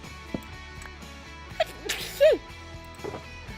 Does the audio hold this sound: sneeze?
yes